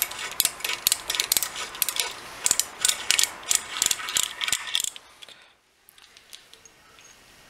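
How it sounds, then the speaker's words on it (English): A hand reamer cutting into a Kolt380 pistol barrel clamped in a vise, a close series of sharp, regular clicking and ratcheting strokes for about five seconds before it falls quiet, with no speech. "After some careful reaming"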